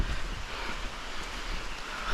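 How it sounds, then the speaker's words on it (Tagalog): Wind gusting outdoors beside a river, a steady broadband rush that sounds like breeze buffeting the microphone, with no voices over it. "napakasarap ng simoy ng hangin sa nature"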